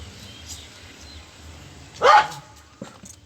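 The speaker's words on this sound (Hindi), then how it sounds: "तो ना भौंके जा रही है।" A dog gives one sharp bark at moderate distance, standing out briefly above a quiet outdoor background in a garden with faint rustling.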